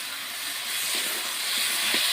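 Crab pieces drop into hot spice paste in a pan and set off a steady, loud sizzling hiss that swells slightly and carries on without pause.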